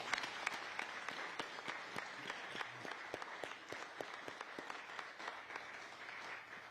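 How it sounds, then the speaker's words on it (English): Soft, distant applause from an audience at a gifting ceremony: scattered individual claps ring out over a quiet, steady wash of clapping, with no voices. "And Catherine deserves a tremendous round of applause."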